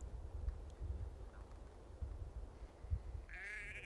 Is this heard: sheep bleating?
yes